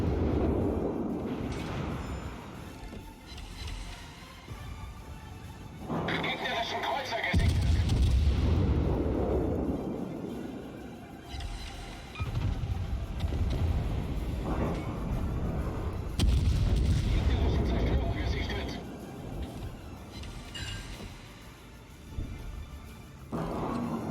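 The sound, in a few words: Hindenburg cruiser guns firing in video game World of Warships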